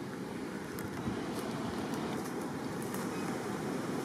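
Low, constant wind rush beside a river with a soft watery wash beneath it and a few faint clicks, steady throughout.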